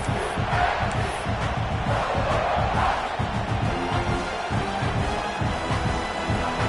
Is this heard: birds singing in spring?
no